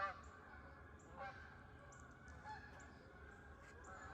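Geese honk repeatedly from a distance, overlapping calls coming in scattered bursts over a faint outdoor background hum.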